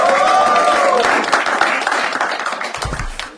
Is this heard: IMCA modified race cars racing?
no